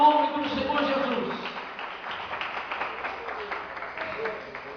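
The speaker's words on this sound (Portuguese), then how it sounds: "dê uma salva de palmas para adorar a palavra de Deus" A church congregation claps together in praise during an evening service, a steady spread of applause from many hands heard over a preacher's voice that carries on during the opening moments.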